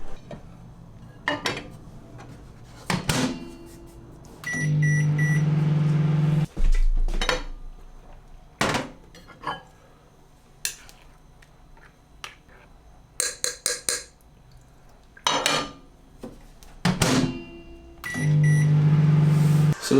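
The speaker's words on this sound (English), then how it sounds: "now it's ready to go in the microwave" A kitchen microwave oven warming a bowl of porridge made with milk, water and whey protein powder, with a steady hum running in stretches, clinks of dishes and cutlery between them, and short beeps.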